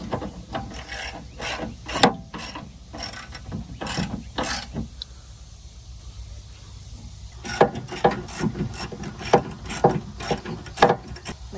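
Ratchet wrench tightening bolts in a workshop, steady bursts of close clicking ratcheting strokes repeating with a pause in the middle, no talking.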